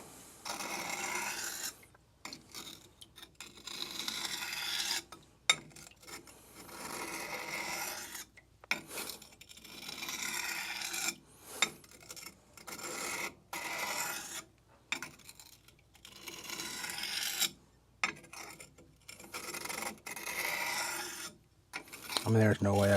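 Newly forged steel knife edge rasped in repeated swipes across a coarse King 120 grit sharpening stone, loud, close, gritty strokes separated by brief pauses throughout.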